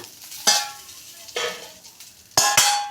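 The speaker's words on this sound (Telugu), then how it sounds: "చూడండి ఇలాగ వేయించుకోవాలి" Ingredients fry in hot oil in a pan for tamarind chutney, each stir setting off a loud burst of sizzling and scraping that fades back to a steady crackle, three times in close succession.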